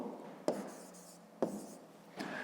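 Pen or pencil writing a math solution by hand on paper, three brief scratchy bursts of strokes spaced about a second apart, close and fairly quiet with no talking.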